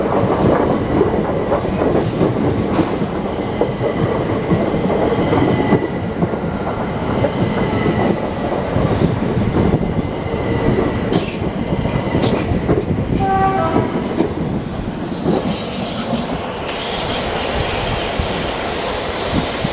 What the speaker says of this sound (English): I don't have any film of the Gatwick Express. These new red ones.